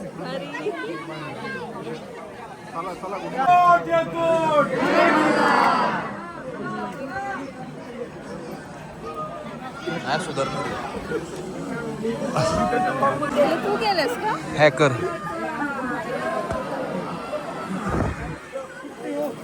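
A dense crowd at Jejuri temple keeps up a steady babble of chatter and bustle, with a close voice talking over it throughout.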